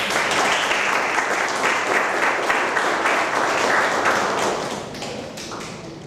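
A dense, steady round of audience applause at a book presentation event fills the room, held loud for several seconds before tapering off toward the end.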